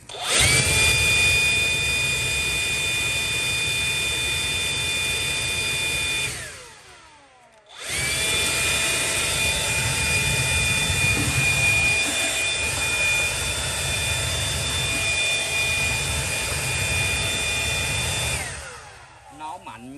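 A DeWalt DCBL722 cordless leaf blower runs at full speed with a loud, steady high-pitched whine and rushing air, spins down briefly to near silence, then ramps back up before winding down again at the end.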